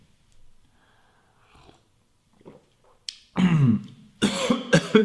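Two loud bursts of coughing close to the mic near the end, after a few seconds of quiet, faint breathing and rustling.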